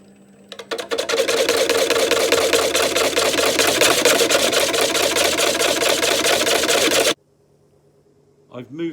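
A wood lathe turns a 20-inch burr oak platter held on a glue chuck while a cutting tool takes a pass, producing a loud, dense, rapidly pulsing rattle for about six seconds that cuts off sharply.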